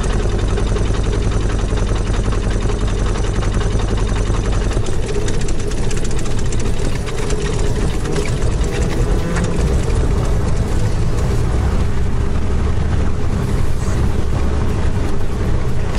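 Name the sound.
fuel-injected aircraft piston engine hot start and running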